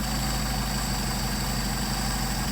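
A Mercedes 190SL engine fitted with Solex 44PHH carburetors idles steadily nearby, a continuous low rumble with a constant hum and no talk over it.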